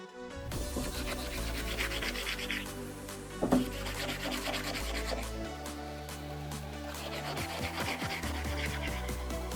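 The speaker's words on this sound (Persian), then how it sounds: "کثیفش رو با استفاده از دو تا سنباده چاقو، سنباده نرم و سنباده زبر تمیز کنیم" A knife blade is rubbed steadily with wetted sandpaper, fine and coarse grits, giving a continuous close scraping and rasping under background music, with no talk.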